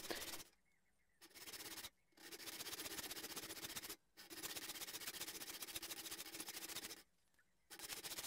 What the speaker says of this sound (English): sanding it flush on a glass plate.